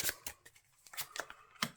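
Marvel Champions cards are shuffled up close in a brief burst of soft, papery riffles and flicks, with short uneven bursts over under two seconds and no voices.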